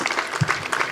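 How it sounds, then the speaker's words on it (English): Audience applause at an energy conference inauguration, a brief burst of clapping heard in uneven rhythmic patters. "give us a big round of applause to Professor Anjal for even trying it."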